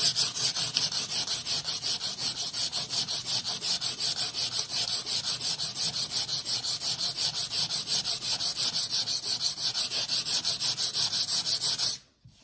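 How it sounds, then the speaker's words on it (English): Steady, rhythmic hand sanding of a wooden stair repair with sandpaper, a continuous scratchy rubbing with even back-and-forth strokes, close up, stopping abruptly near the end. "You take a sanding paper and you sand the repair."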